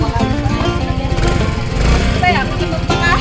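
Kawasaki motorcycle engine running steadily throughout at close range, a low pulsing drone with harmonic bands and a slight rise in revs midway, while people talk over it.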